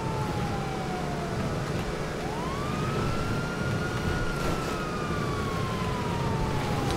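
Police car sirens in a video game wail continuously, rising and falling in long sweeping tones over a steady engine roar and road noise. They sound loud and close throughout, with no talking.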